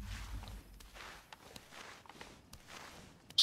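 Footsteps in the video game DayZ, a run of soft, irregular thuds and scuffs at moderate distance, fairly quiet under a low ambient rumble, with no talking.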